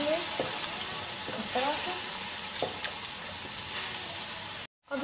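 Golden fried onions with ginger garlic paste sizzle steadily in a pan, with a few scraping stirs of a spoon, while someone speaks briefly before the sound cuts off near the end.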